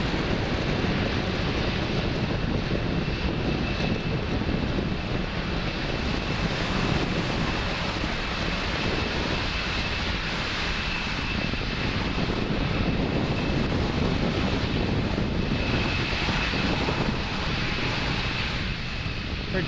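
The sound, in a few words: SpaceX Falcon 9 rocket launch, Merlin 1D engines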